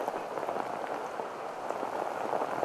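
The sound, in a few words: heavy rain falling on a rugby match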